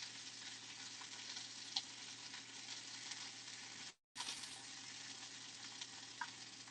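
Burger patties frying in a pan, giving a steady, close, busy sizzle with faint crackles throughout, broken by one very short silent cut near the middle.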